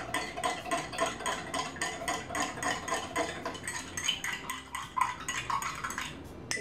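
A spoon stirs iced coffee in a glass, giving a rapid rhythmic clinking of metal against glass and ice that slows and softens toward the end, close and with no voices.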